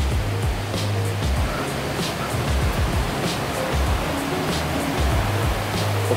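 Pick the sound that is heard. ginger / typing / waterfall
waterfall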